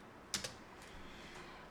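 Two quick, sharp taps of a computer keyboard key sound close but faint, followed by near silence with a couple of softer clicks.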